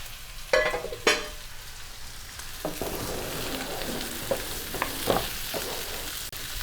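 Green plantain stirred and fried in a pan with a full stem of curry leaves, a continuous sizzle broken by a few sharp spoon scrapes and knocks against the pan, with no talking.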